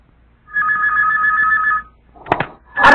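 A telephone rings with a steady electronic trill for over a second, then a couple of thumps and rustling sounds follow as the handset is picked up.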